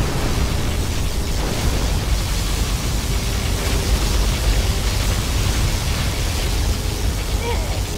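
Particle cannon in Command & Conquer Generals Zero Hour firing its beam, a dense, loud, continuous roaring rumble like a sustained blast, steady throughout with no speech.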